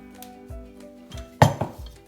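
A spoon clinks and scrapes against a bowl while mixing milk and eggs into scone dough, several soft knocks building to a sharper clatter, close and moderately loud.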